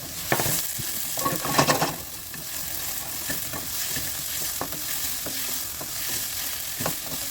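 Frying in olive oil in a pan for chicken and mushroom pasta, a continuous close sizzle with scattered spoon scrapes and stirring clatter, heavier at the start, without speech.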